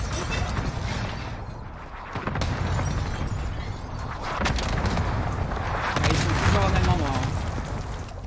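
Allied airstrike explosions in a Warzone battle royale match on Caldera rumble and crack continuously, with heavy booms swelling toward the end and voices faintly mixed in.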